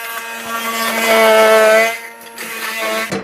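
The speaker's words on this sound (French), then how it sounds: "Et on va pouvoir commencer à mixer." An immersion blender whirs loudly through wild garlic, parmesan and olive oil for pesto, a steady high motor whine that strains and dips partway through, then revs briefly again.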